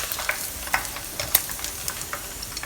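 Pork pieces fry in hot oil for a honey pork dish, a steady close sizzle with light crackles and pops scattered throughout, no voices.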